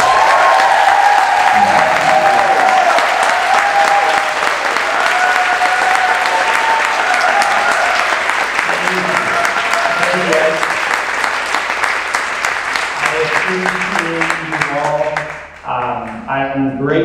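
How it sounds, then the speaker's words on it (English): A concert audience at Conscious Concert Ireland 2017 gives JP Sears a long round of applause, a dense, loud crowd clapping that holds steady before tapering off, with voices mixed in and speech emerging at the end. "Can we give him a big round of applause?"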